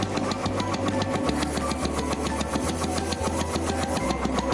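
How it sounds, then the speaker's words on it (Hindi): A motorcycle engine runs steadily after being kick-started, a close, fast, even putter with a rapid mechanical rhythm that changes pitch slightly partway through. "किक से स्टार्ट अब करते हैं।"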